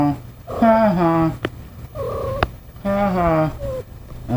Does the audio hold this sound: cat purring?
yes